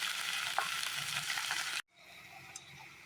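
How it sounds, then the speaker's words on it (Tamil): Spinach greens with onion sautéing in a pan with a pinch of salt, a steady close sizzle with light stirring that cuts off abruptly partway, then resumes more quietly. "கீரையை போட்டு லேஸாக உப்பு போட்டு வதக்கிடுவோம்"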